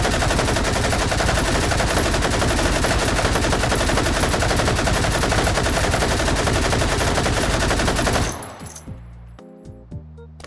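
Sustained automatic fire from an RPD machine gun in the VR game H3VR, a dense, loud, unbroken burst lasting about eight seconds before cutting off abruptly, followed by a few faint, tonal game sounds.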